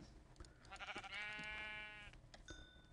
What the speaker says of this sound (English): and at least I found some sheep.